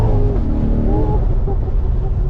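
A Chevrolet Corvette C8R engine roars as the car accelerates hard on a track drive, with a loud, rising, close engine note and a voice talking over it.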